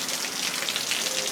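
Rain pouring off a porch roof onto a walkway by a front door, a dense steady patter of drops close by with no break.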